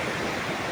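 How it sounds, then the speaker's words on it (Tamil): Arivikarai waterfall near Nagercoil in Kanyakumari district pours with a constant, broad rushing roar, dense and even with no pauses. "Aruvikkarai water falls"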